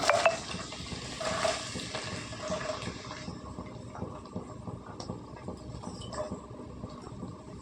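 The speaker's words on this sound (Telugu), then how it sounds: "నూనె వేడెక్కిందండి. ముందు ఉల్లిపాయలు వేసుకుందాం." Large onions dropped into hot oil for a capsicum tomato curry, a louder burst of frying at first that settles into a softer steady sizzle with occasional utensil clinks, no talk.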